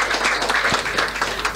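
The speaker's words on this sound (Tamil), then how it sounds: "அதற்காகவே அவருக்கு ஒரு பெரிய கைத்தட்டலை நம்ம கொடுக்கணும்" An audience at a Tamil literary talk claps in a dense, continuous burst of applause that fills the room.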